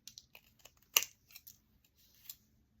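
Scissors trimming the edges of a small handmade paper book, a few quiet crisp snips spread out over a couple of seconds with faint paper handling between them.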